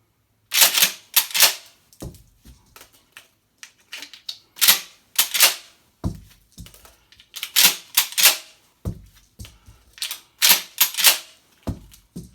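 Shotgun action racked by hand with dummy rounds, sharp metallic clacks and slides in repeated pairs with pauses between cycles, close and loud.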